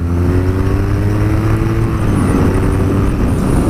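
A 2017 BMW R nineT's boxer engine pulls hard as the motorcycle accelerates on the road, a loud, steady, close-up drone that rises in pitch while wind noise rushes continuously alongside.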